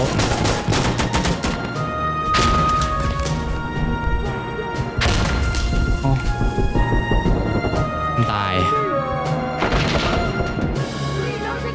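Loud, continuous gunfire in the tactical shooter Insurgency: Sandstorm: rapid bursts of close shots crack one after another without pause, with ringing echoes and clattering impacts throughout.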